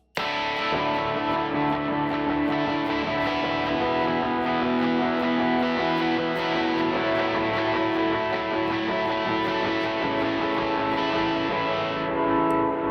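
Heavily overdriven electric guitar on a second-stage overdrive rings out in a dense, sustained wall of sound, with regular picked accents pulsing throughout, loud and steady.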